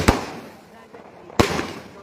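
Firecrackers set off at a political rally in Nanded, Maharashtra: two loud, sharp bursts about a second and a half apart, each cracking out and decaying into a low background hum.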